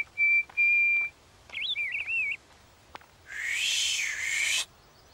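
A person whistles short tonal phrases, steady notes and then a warbling trill, with a breathy, louder whistled burst near the end, separated by brief pauses.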